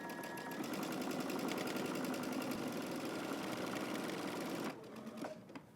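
A sewing machine stitches a double rolled hem in a fast, steady mechanical whir for several seconds, then stops, leaving a few light clicks.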